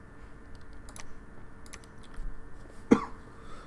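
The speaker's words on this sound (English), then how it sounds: "a little bit of a cough still" A single short cough near the end, over faint keyboard clicking and quiet room noise.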